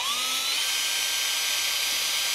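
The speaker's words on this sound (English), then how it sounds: "you can connect this to a drill" Power drill spinning the threaded rod of a linear actuator, a steady high-pitched whine that rises briefly at the start, then holds level and fairly quiet with no talking.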